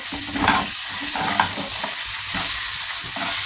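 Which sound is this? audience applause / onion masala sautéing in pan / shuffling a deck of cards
onion masala sautéing in pan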